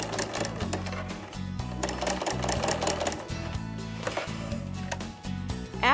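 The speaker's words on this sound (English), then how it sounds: "it is going to stitch 12 stitches and then push the fabric in." A Bernina sewing machine fitted with a ruffler attachment pleats fabric, running with a fast, steady mechanical stitching rhythm broken by regular clunks as the pleater pushes the fabric in, close and loud.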